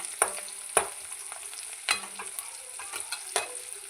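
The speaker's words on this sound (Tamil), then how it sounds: "வெங்காயம் நல்லா வதங்குற அளவுக்கு நல்லா கிண்டிக்கிட்டு நல்லா வேக வச்சுக்கலாம்" Onions sautéing in a pan for drumstick leaf soup, a soft sizzle under repeated scraping stirs from a spoon, with a few sharper clinks against the pan.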